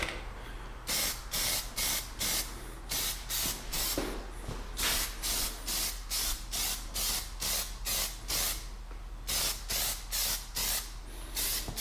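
Short repeated bursts of an aerosol spray can laying a very light, dusty first coat of paint on MINI car parts being turned around, about a dozen hisses of roughly half a second each with brief gaps, close and steady.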